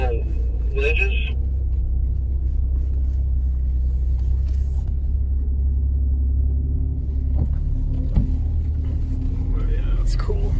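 Ford Raptor truck crawling off-road over small mountain ledges, its low engine rumble steady and close throughout, with a brief faint voice near the start.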